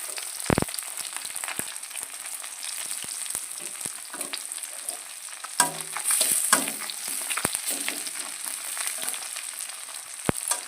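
A fish head fries in hot oil, with a steady bright sizzle and scattered pops and crackles, plus a few knocks of a utensil in the pan.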